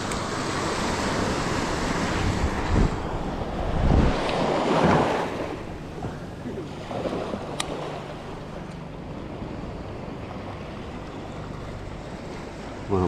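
Ocean waves surge and wash in a continuous rush during a seaside outing, mixed with buffeting wind on the microphone. A louder swell breaks near the start, then the surf settles into a steady background hiss.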